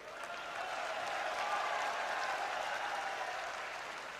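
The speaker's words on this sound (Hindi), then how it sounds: "आप ताली बजा रहे हो" A crowd at a political rally in India applauds, a steady wash of clapping from many hands heard at a distance and fairly soft, holding evenly for a few seconds.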